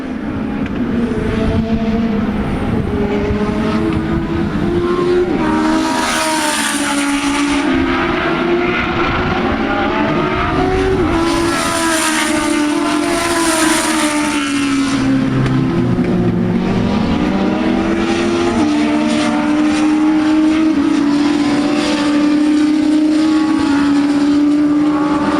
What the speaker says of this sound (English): it looks like Shattuck has the advantage here.